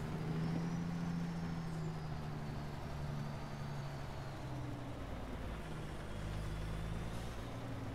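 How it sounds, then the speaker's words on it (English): A Caterpillar engine idles and rumbles in a Peterbilt 359 truck in American Truck Simulator, a steady low drone with a deep even hum holding throughout, no voices. "Listen to that cat engine."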